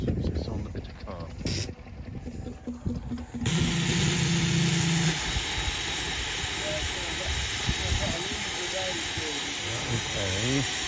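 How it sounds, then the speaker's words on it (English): A 1927 Sentinel steam road tractor at a steam and country show lets out a loud, continuous steam hiss that bursts in after a few seconds of voices and outdoor noise, with people talking nearby. "It's a 1927 Sentinel road tractor, is what that is."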